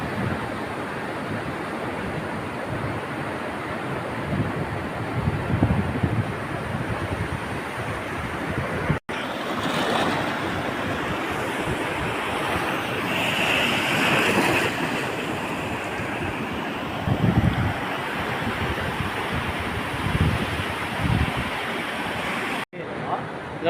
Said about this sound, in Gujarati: અહીંયા પાણી ઇલોળા લે છે